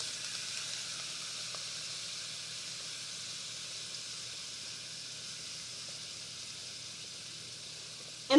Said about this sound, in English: now I'm going to add my sauce